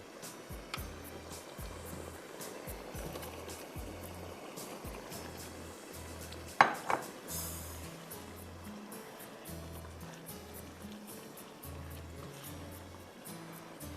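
Fried chicken goes into a hot pan of a special chicken dish and is stirred: a steady, close oil sizzle, a sharp clatter of the utensil against the pan near the middle, then the sizzle continues.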